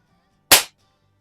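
A single sharp air pistol shot, a loud close crack that cuts off quickly, with quiet around it.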